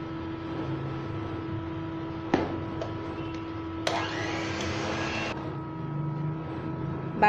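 Electric hand mixer beating vanilla cake batter at low speed, a steady whirring motor hum with a few brief clicks and a short louder rattling stretch partway through.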